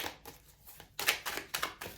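Tarot cards being shuffled, a soft rapid riffling and flapping of card stock in short bursts, close and fairly quiet, with no talk.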